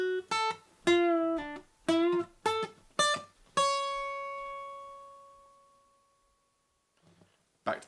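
An acoustic guitar plays a solo line alone and up close, a run of clearly picked, separated notes ending on one long ringing note that slowly decays into near silence before a faint final pluck.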